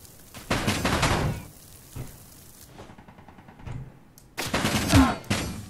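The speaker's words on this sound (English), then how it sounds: "So the armorer is shooting at me." Bursts of rapid automatic gunfire aimed at the player in the Space Engineers video game arrive in two loud volleys with quieter shots between them, and nobody speaks.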